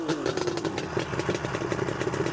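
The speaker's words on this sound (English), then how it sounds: "So we'll just give it a little rev and see what you think." A 1977 Suzuki GT380 motorcycle engine runs near and steady, with a fast rhythmic pulsing beat and a slight rise in pitch early on, and nobody talks over it.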